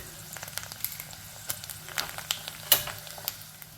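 Mustard seeds, curry leaves and dried chillies frying in hot coconut oil, giving a soft steady sizzle broken by scattered sharp pops and crackles, one louder snap near the end.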